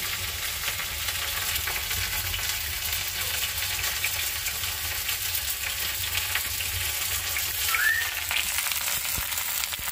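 Dal (lentils) fries in a pan with a continuous, even sizzle close by. A faint clink is heard near the end and no one speaks.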